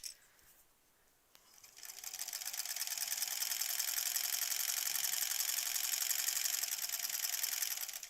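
A sewing machine stitching quilt borders starts after a quiet moment, then runs in a steady rapid whirring rattle that stays close and fairly loud before slowing at the end.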